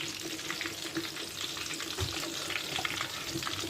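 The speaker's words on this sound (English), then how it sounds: "Our plantain is there, frying already." Plantain frying in a pan during weekend home cooking, giving a steady close sizzle and crackle with a faint watery bubbling underneath, continuous and without talk.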